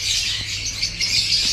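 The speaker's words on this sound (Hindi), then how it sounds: "Sulphur crested कोकेटू।" A sulphur-crested cockatoo squawks harshly and continuously, a loud raspy screech with no voices over it.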